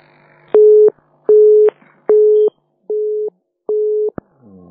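Telephone busy signal on a poor call-in radio line: five loud, evenly spaced electronic beeps, each about half a second long with short gaps between them, followed by a brief click.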